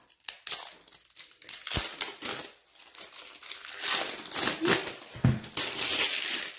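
Plastic packaging of a diamond painting kit crinkles and rustles up close in irregular bursts, with sharp crackles and tearing sounds as it is handled and pulled open.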